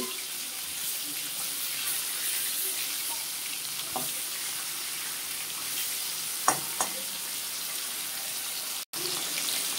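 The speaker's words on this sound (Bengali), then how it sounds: "মাছগুলো এখন আমি হালকা ভাজবো, উল্টিয়ে দিচ্ছি" Pieces of shol fish shallow-frying lightly in oil in a pan and being turned over, a steady close sizzle running throughout with a few brief clinks and scrapes.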